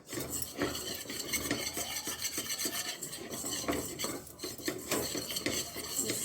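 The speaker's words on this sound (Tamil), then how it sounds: "இந்த வெண்ணெயில் இந்த பட்டரில் போட்டு கொஞ்சம் கொஞ்சமாக நல்லா விஸ்கில் நல்லா போட்டு நல்லா இது பண்ணிக்கணும்." A mixture is whisked into melted butter in a pan over low heat, giving quick, repeated scraping and clinking strokes of the whisk against the pan, close and continuous with a faint sizzle underneath.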